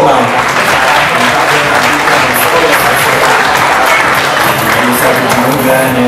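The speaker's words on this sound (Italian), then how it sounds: "Un applauso a Manuele Minerva" Dense, steady applause from an audience at a Miss Gilmont 2018 beauty pageant event, loud and continuous throughout with a busy crowd texture and some voices mixed in.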